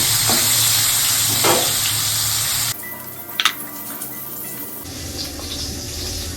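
Fish frying in very hot oil in a wok gives a loud, steady sizzle that cuts off abruptly partway through, followed by a few clinks and a softer sizzle returning near the end.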